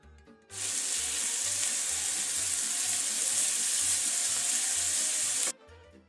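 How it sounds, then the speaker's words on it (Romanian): Vegetables hit fat rendered from meat plus a little sunflower oil, breaking into a steady, close, loud sizzle that holds for about five seconds and cuts off abruptly, with faint low thumps in the background and no talking. "vom prăji toate legumele în puțină grăsime pe care carnea a slobozit-o și puțin ulei de floarea soarelui"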